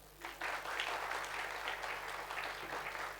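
An audience at a network marketing training session bursts into steady, dense applause that holds evenly at moderate volume throughout, with no talk over it.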